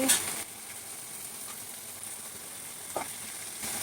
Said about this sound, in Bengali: পেঁয়াজের সঙ্গে আলু আর মাংস ভাজা ভাজা হয়ে গেছে। এখন হলুদের গুঁড়া দিয়ে দিচ্ছি, মরিচ বাটা দিয়ে দিচ্ছি